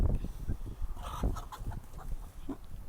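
Several chickens, mostly laying breeds, cluck and murmur close by in a pen in an irregular, busy chatter, with no talking.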